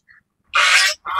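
Ducks kept at an outdoor family picnic spot with a kids' jumping area call out in alarm: a faint short call, then a loud harsh honking burst and a second burst close by.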